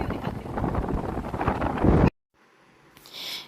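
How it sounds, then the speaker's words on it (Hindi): Strong, cold wind at Pingleshwar beach buffeting the microphone in a loud, rumbling roar for two seconds, then cutting off abruptly before a fainter gust returns. "बहुत ठंडी हवा चल रही है, बहुत तेज़ हवा चल रही है।"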